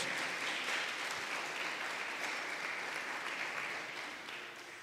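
A church congregation gives a welcoming round of applause, a steady wash of clapping heard faint and distant that gradually fades toward the end, with no speech.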